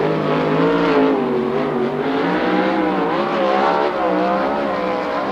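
A 410 sprint car with a Chevy engine on a Triplex chassis roars through a qualifying lap at a USAC oval race, its engine a loud, continuous high-revving scream that rises and falls slightly as it circles the track.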